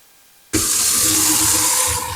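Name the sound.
water running from a tap, rinsing foraged materials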